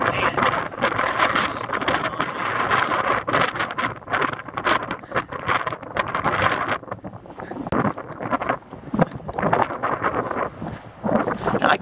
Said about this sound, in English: it's just getting so windy